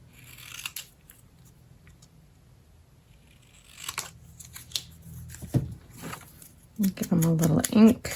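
Scissors trim paper tags for a junk journal, with a few crisp snips scattered between quiet stretches and soft paper handling, plus a burst of rustling near the end.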